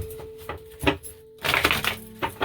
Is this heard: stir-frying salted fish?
no